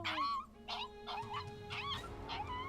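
A dog in a Russian horror video game squeals and yelps in a rapid series of high, whining cries, fairly close and distinct over a low background hum.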